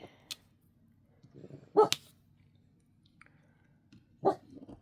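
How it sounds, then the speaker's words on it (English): A dog barks indoors in a few sharp, separate bursts with quiet gaps between them. The barks come from close by and are moderately loud, with no talking. "do I need to put a bark collar on you?"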